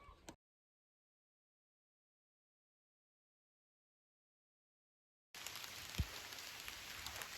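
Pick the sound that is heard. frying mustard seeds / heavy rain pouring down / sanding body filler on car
heavy rain pouring down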